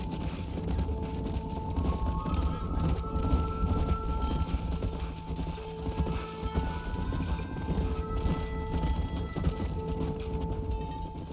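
Horse hooves clip-clop at a steady trot in Red Dead Redemption 2 while a herd is being driven, with a brief whinny and soft sustained music tones underneath.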